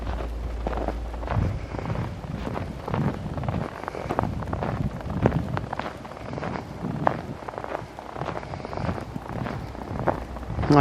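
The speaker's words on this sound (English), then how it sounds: "Listen to that wind." Wind moves through snowy woods, a soft, uneven rushing that rises and falls across the whole stretch, fairly close and moderate in level, with scattered crunching and rustling of movement and no talking.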